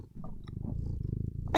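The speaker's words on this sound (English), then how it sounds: "Dear God, you're a loud cat." A house cat purrs loudly and close to the microphone, a steady rhythmic rumble that swells near the end.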